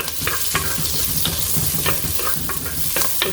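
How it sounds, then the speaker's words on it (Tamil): Curry leaves fry in a clay pot for a Jaffna-style wild boar curry, a steady close sizzle with repeated stirring scrapes every half second or so, no voices. "கறி லீவ்ஸ் போட்டுட்டு இதை ஃப்ரை பண்ண விட்டேன்"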